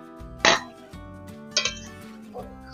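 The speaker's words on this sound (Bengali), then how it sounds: "ঢাকাটা খুলে দেখব।" A metal pot lid clinks open during cooking of a sour puti fish curry: two sharp, bright clanks close by, followed by a fainter tap, over a quiet steady hum.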